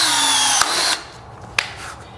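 A power drill fitted with a rivet attachment whirs loudly and close while setting a rivet, then stops abruptly with a sharp snap, followed by a second brief click as the pin is ejected.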